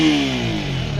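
A KTM Duke 200 BS4 motorcycle engine fires up close by and revs, its pitch sliding briefly in a short, loud burst.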